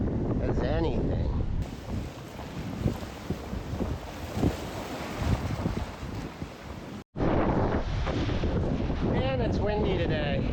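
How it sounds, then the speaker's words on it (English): Heavy wind buffets the microphone in loud, rumbling gusts that cut out abruptly for a moment, with the roar of open water beneath. "Man, it's windy today."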